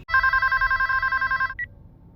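A single loud electronic telephone ring, steady and close for about a second and a half, then a brief higher chirp as it cuts off, with a low background hum beneath.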